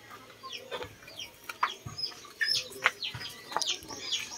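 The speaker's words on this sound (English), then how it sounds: "we have 2 rooster over here on this side." Chickens cluck and chirp in short, scattered bursts at close range, with two roosters among the flock and occasional wing flaps breaking through.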